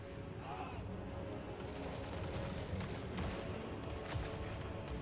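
Massed handgunner troops firing volleys in the Warhammer 3 battle game, a steady crackle of distant musket-style shots under battlefield ambience, with faint unit voice lines.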